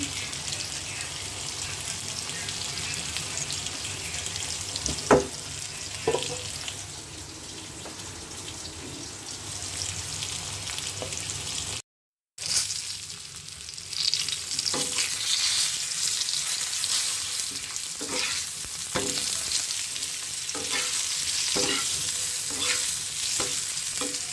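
Teasel gourd (kakrol) fries in a pan, with a continuous close sizzle broken by scraping stirs and occasional clinks, and a brief dropout midway.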